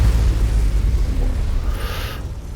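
A Mechwarrior 5 PPC weapon firing, giving a loud, deep, rumbling blast that fills the whole clip. A brighter crackle flares near the end before fading.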